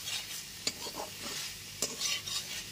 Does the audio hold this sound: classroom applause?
no